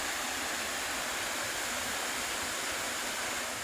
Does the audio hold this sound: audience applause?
no